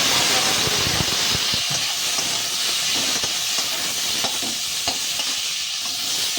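Turmeric and red chilli powder spices sizzle and hiss steadily in a hot pan as water is added, a continuous close frying sound with faint stirring clicks throughout.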